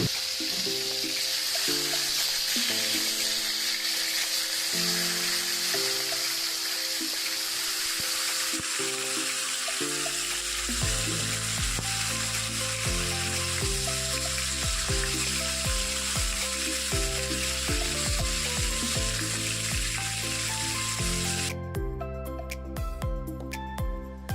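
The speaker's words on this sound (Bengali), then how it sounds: "তো তেলটা কিন্তু এখানে ভালোভাবে গরম হয়ে গেছে। এবারে আমরা নুন মাখানো মাছটা দিয়ে দিচ্ছি।" Salted fish goes into well-heated oil for fish korma, and a bright, steady sizzle fills the first half. Loud background music then takes over and runs to the end.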